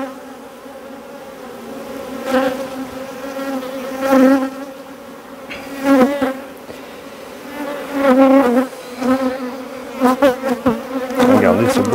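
Honeybees buzz around hive frames as an overwintered swarm is transferred during colony expansion, a close, dense hum swelling in repeated loud bursts every couple of seconds.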